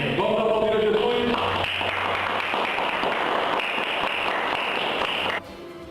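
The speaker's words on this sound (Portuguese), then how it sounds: "Vamos aplaudir a Jesus." A church congregation applauds during a sermon, producing a dense, steady wash of clapping that continues for several seconds over low music, then drops off abruptly near the end.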